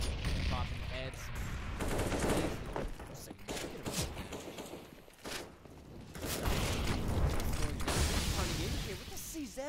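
CZ pistol gunfire rattles through a Counter-Strike match, with bursts of rapid shots, other weapons and footsteps layered together while a commentator talks over the action.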